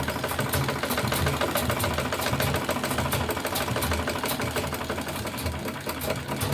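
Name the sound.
sewing machine stitching close to the edge of a tote bag strap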